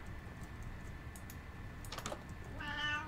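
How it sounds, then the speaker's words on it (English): Quiet keyboard typing clicks lead into a single drawn-out cat meow in a Minecraft survival world, faint and slightly wavering, heard alone with no talk. "that was a scary meow"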